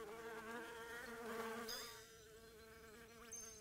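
Bees buzz around a hive in the video game Snufkin: Melody of Moominvalley, a steady droning hum with wavering pitch, close and continuous, with no talking.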